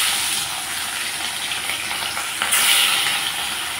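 Hilsa fish pieces frying in hot oil, a dense continuous sizzle with crackling spits that swells briefly as more oil bubbles up, close and loud.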